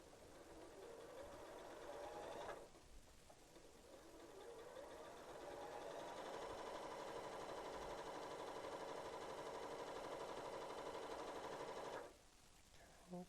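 A sewing machine stitching a quarter-inch seam through a Churn Dash quilt block, a steady whirring drone running about ten seconds between two short pauses, close and alone.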